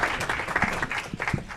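Applause at a city council meeting in Aurora honors volunteer snow shovelers, a moderately loud round of audience clapping with a few sharper individual claps standing out and no talk over it.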